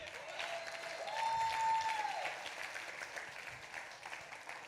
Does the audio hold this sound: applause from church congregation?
yes